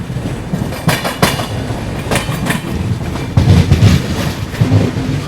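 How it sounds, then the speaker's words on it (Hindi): A train runs alongside on a parallel track near Ghaziabad Junction, heard from a 2AC coach aboard the moving New Delhi–Banaras Superfast Express: loud rolling rumble with clickety-clack wheel beats and rattling that grows heavier partway through. "यहाँ पर देखिए किसी ट्रेन के साथ अपना पैरेलल रन जो है वो यहाँ पे हो रहा है।"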